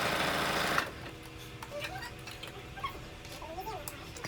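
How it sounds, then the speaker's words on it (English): A domestic sewing machine stitches the main and lining seams of a plain crop top from pin to pin, a steady close whirr that stops after a second, followed by quieter fabric handling and faint squeaks. "Just continue sewing from pin to pin"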